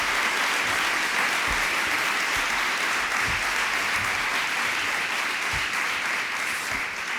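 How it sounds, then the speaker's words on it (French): An audience at a parents' colloquium applauds, a long sustained wash of clapping that stays even and fairly soft throughout, with scattered louder claps and no voices over it. "Je vous propose qu'on les applaudisse encore"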